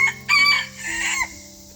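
A mini bantam Sebright rooster crows once up close, a loud bright strained call that rises and then trails off, with faint background hum and no talking.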